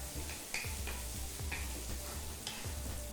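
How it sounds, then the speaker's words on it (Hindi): Two small chopped onions lightly frying in a pan give a steady soft sizzle, with periodic spoon scrapes and taps from stirring every half second or so, fairly faint and with no talk. "प्याज को हल्का सा भूनना है, पूरा ब्राउन करने की ज़रूरत नहीं है इसमें"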